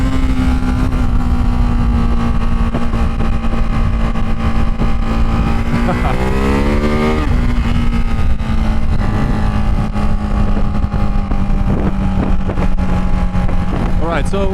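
A Ducati Hypermotard 698 motorcycle engine hums steadily at a loud, constant pitch throughout. Its tone rises and wavers briefly in the middle, as if revving, and wind noise and a voice run over it.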